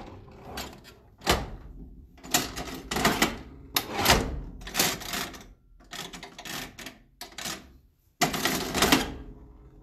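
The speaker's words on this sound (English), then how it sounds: "Ah, the drawer does open." Antique cash register drawer being worked, giving a series of sharp mechanical clacks and rattling bursts at an irregular rhythm, close and fairly loud with no talk.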